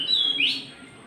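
A small bird gives a quick, bright chirp followed by a rising tweet, close and clear over a quiet background.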